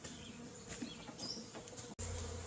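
A faint, steady buzzing hum of many honey bees settling into a Flow hive fills the background, continuous and soft with no voices.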